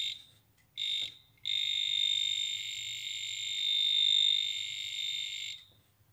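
A handheld tester traces a broken PLN mains power cable for air-conditioner wiring, giving a shrill electronic beep: two short chirps, then one long steady tone that wavers slightly before cutting off, close and clear over a faint low hum.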